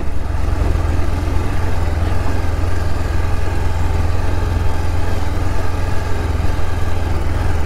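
Steady low engine rumble from vehicles running near a beach, a dense continuous drone with no pauses and no talk.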